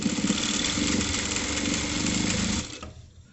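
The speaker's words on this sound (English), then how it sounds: "Going to lower my needle down, start sewing." A sewing machine stitches a shift dress, its motor whirring steadily and loudly at close range for a few seconds before winding down and stopping.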